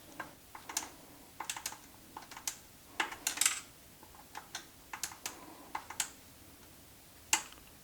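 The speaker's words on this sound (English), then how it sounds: "I'm going to go 17 clicks back counterclockwise." Rear suspension clicker adjuster on a Husqvarna EE 5 electric youth motocross bike being turned counterclockwise toward the comfort setting: a steady run of small, sharp, close-up clicks, seventeen in all at an uneven pace, with no talking.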